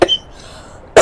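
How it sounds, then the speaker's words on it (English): Two sharp, loud coughs from one person, one at the start and one at the end, separated by a near-silent pause. "Here comes the cough."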